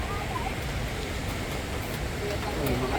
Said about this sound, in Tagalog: Ang lakas ng ulan, oh.